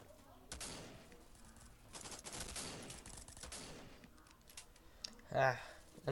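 Gunfire from the FPS shooter game Fwd Assault, a dense burst of rapid automatic shots for about four seconds, then scattered clicks and a short louder blast near the end, with faint talk in the background.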